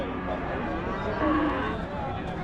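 Cattle lowing and mooing at a busy weekly livestock market in Namakkal, with cows, bulls and buffalo present, a steady crowd murmur around the animals throughout.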